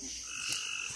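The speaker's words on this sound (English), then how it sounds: "So I hear a frog over here next to the thing." One frog croaks close by outdoors, a single short throaty call with a buzzy, slightly pulsing tone over faint background insect hiss.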